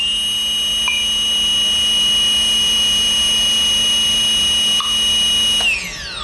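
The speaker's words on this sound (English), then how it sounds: "do a quick test at half throttle of what the motor shows without a propeller on it" A multirotor motor with no propeller fitted runs at half throttle, giving a steady, close, high-pitched whine that holds evenly, then winds down at the end.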